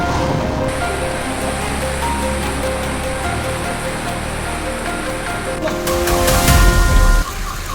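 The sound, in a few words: heavy rain and strong wind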